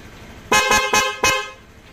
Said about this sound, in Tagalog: So ito yung sa busina niya